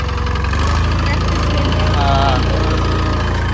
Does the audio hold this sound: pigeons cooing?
no